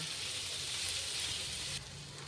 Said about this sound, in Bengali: পেঁয়াজগুলো যতক্ষণে স্বচ্ছ হয় ততক্ষণ আমি একটু ভেজে নেব